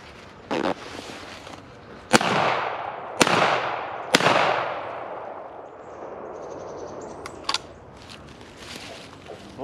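Three sharp .410 shotgun blasts fired at jugs outdoors, loud and spaced about a second apart, each trailing off in a long echo, with a few smaller pops and faint rustle in between.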